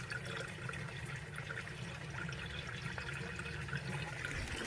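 Pond outflow water pours steadily into backyard aquaponic barrels, a continuous soft rushing and trickling that holds at an even, moderate level.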